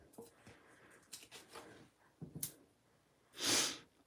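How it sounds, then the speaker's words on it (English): A person recovering from a cold sniffles several times, with quiet, close breathy snorts through the nose and one stronger sniff near the end. "Sorry for the sniffling."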